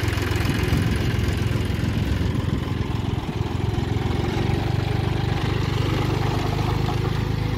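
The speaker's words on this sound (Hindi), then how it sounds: "जब आप ट्रैक्टर चलाएंगे" A tractor engine runs steadily in a farm field, a loud, close, continuous low chugging drone with no talk.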